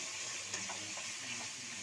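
Spices, tomato and yogurt sautéing in a pan for chicken curry, a dense continuous hiss with a few faint stirring scrapes, brief and moderately quiet.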